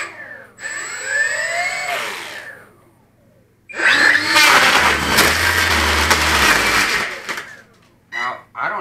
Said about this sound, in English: we'll show you the engines here